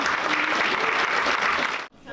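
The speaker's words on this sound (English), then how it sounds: "Another round of applause." A conference audience applauds in a brief, dense burst that cuts off abruptly, with a voice resuming just after.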